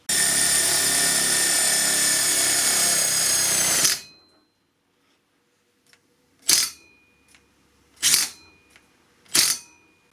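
A Makita TD172D impact driver whines loudly and continuously for a few seconds driving a self-drilling screw into 2mm steel, then stops; afterward three short mechanical bursts follow, separated by near silence.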